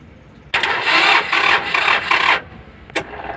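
Old-model Mitsubishi L300 engine cranking over with a loose starter, a loud rasping churn of about two seconds that stops abruptly, followed by a short brief burst.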